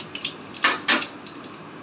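Whole cumin seeds, a bay leaf and dried red chilli crackle and hiss in hot oil, a loud, close sizzle with sharp pops and spits rising over steady frying noise.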